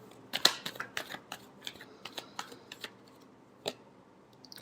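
Tarot cards are shuffled for a final pass before a love reading, giving sharp, separate riffles and snaps spaced irregularly, close and crisp, with quiet gaps between.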